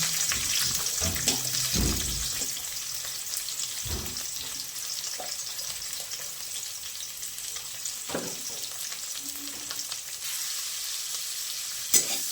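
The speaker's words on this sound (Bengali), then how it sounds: "পেঁয়াজটা লাল লাল করে ভাজবো না, শুধু একটু নরম হওয়া অবধি কড়াইতে নাড়বো।" Chopped onions from two medium onions fry in oil in a kadai, a constant close hiss of sizzling with scattered scrapes and knocks of stirring, running throughout without any speech.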